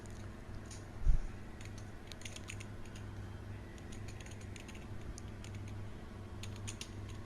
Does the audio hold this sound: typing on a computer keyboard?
yes